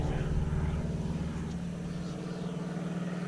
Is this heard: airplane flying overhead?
yes